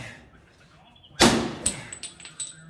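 A storage-unit door or safe door bursts open under a spud bar, a sudden loud crack and clatter followed by a few scattered metallic knocks and rattles nearby.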